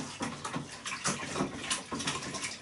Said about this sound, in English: We're just basically making sure that all that sugar is stirred properly into